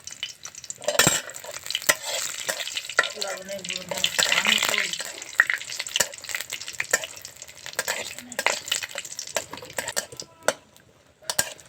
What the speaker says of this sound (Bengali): এবার লঙ্কাগুলো ভেজে নেব।